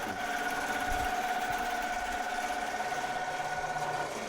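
An embroidery sewing machine hums close and steady, stitching at 1,000 stitches a minute in a fast even mechanical drone with a faint tonal whine and no pauses or talking.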